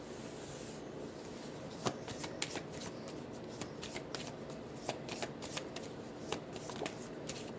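Playing cards are shuffled by hand for a grief-healing card reading, a soft continuous riffle broken by crisp, irregular snaps and taps of the deck in a quiet room, with no talking.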